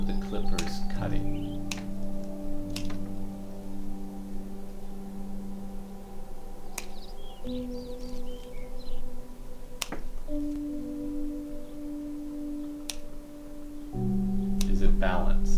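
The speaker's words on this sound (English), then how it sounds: "that's part of this is the sound of the clippers cutting" Sharp snips of garden clippers cutting branches ring out at irregular intervals, several crisp clicks over a steady droning background.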